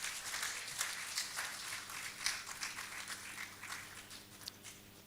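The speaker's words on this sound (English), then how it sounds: "Another round of applause for the hypocrite." A live audience at an open mic event claps steadily throughout, a dense, even patter of applause at moderate distance with no voices standing out.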